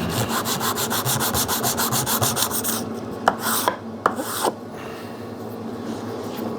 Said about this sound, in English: that also needs to be scratched up for stacking purposes so that the epoxy picks up well